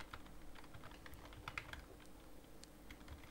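Quiet, close keystrokes on a computer keyboard come in an uneven burst of taps and clicks with no talking.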